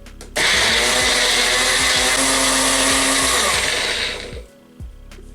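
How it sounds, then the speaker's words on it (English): A kitchen grinder whirs loudly, blending mustard sauce ingredients with lemon juice in a steady high-pitched motor roar that runs for about four seconds before winding down and stopping. "Now I'll start grinding."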